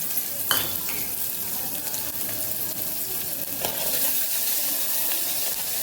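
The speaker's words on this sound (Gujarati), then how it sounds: "સરસ આપણે ડુંગળીને સાતડી લેવાની છે" Steady loud sizzling of onion sautéing in a hot pan, with a few clinks and scrapes of stirring; no voices.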